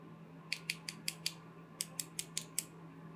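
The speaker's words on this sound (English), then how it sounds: "Then remove the screws." A screwdriver backing screws out of a magnetic EDC fidget toy: two quick bursts of about five sharp ratcheting clicks each, close and quiet over a low steady hum.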